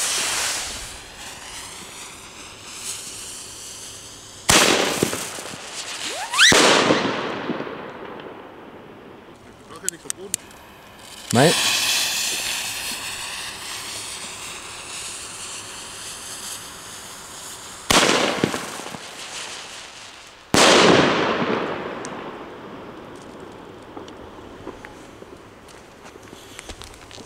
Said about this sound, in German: Jetzt geht's weiter mit Salut. Und zwar hier diese Single-Salut-Shots von Pyroland.